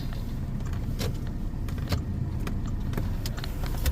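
Heavy road traffic with cars, a constant loud low rumble of engines and tyres close by, with scattered clicks and clanks on top and no talking.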